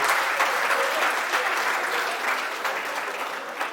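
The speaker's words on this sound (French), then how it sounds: "On applaudit tous ensemble" A comedy-show audience breaks into warm, sustained applause, a thick wash of many hands clapping evenly and loudly before tapering slightly toward the end.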